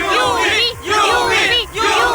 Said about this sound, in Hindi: यहाँ पर इतनी भारी बारिश होने के बावजूद भी भीड़ कम नहीं हो रही है